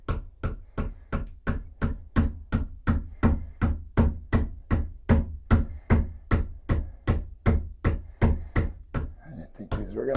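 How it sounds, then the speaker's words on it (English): Rubber bumpers being hammered onto a bidet toilet seat with an oversized hammer: about two dozen sharp, evenly spaced knocks close to the microphone, steady and loud for ten seconds. "Way too oversized hammer."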